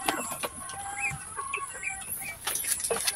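Hens clucking in wooden nesting boxes while laying eggs, a series of short close clucks and squawks coming in uneven bursts against quiet farm background.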